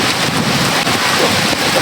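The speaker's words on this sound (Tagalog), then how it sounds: "Yan, lakas talagang ulan dito tol. Bumagyo na oh." Heavy rain pours down steadily in a storm, with gusting wind rushing over the microphone in a constant loud, dense wash of noise.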